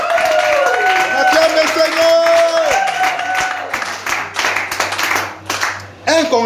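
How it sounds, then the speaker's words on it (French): A church congregation claps loudly and steadily in praise, a dense crowd of hands under a prominent voice speaking or singing over it before the sound thins out. "On acclame le Seigneur."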